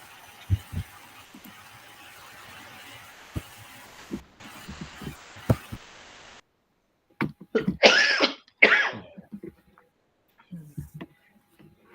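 A person coughs from fatigue, several short dry coughs clustered midway, surrounded by sparse knocks and thumps in a quiet room, close to the microphone.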